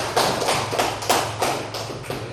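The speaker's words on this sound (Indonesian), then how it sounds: "Beri aplaus dulu pada teman-temannya dulu." Classroom students clapping in a brief burst of applause, several loose rhythmic waves of claps close by in an indoor room, with no talking.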